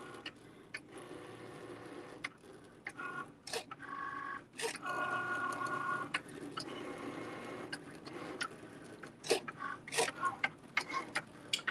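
A BAI 15-needle embroidery machine runs a tack-down and satin stitch through fabric backed with heat-and-bond adhesive, giving a steady rapid mechanical patter with sharper ticks and clacks breaking through at intervals, fairly close.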